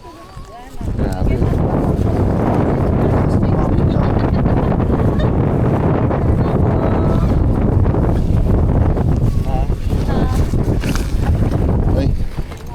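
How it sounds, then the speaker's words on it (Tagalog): Strong wind buffets the microphone at a lakeside campsite in Cavinti, Laguna, a dense, constant low roar lasting nearly the whole stretch, with people talking faintly under it. "Ay, lakas ng hangin."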